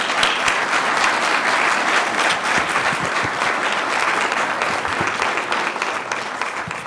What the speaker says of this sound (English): I would ask you to join me in a round of applause